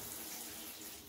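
Cold water running from a tap in a short, faint, steady hissing stream.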